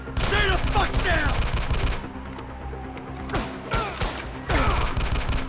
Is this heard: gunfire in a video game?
yes